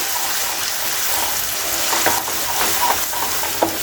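Onions, garlic and ginger frying in a pan, giving a dense, even hiss close up, with light scraping taps from stirring toward the end.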